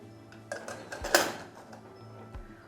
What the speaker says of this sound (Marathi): तर आता इथे आपण कुकरला झाकण लावून घेऊया